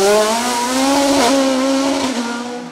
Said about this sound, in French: c'est finalement Fabien Bourgeon qui prend la 2e place sur sa Revolt 3P0 à moteur V8 Cosworth